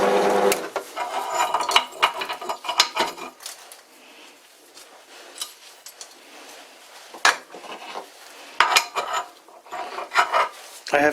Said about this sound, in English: I have to deburr these